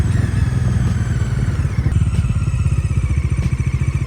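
A 2025 Bajaj Dominar 400 with its 373cc KTM-derived engine roars close up in a loud, rapid pulsing throb that holds steady for a few seconds with no speech.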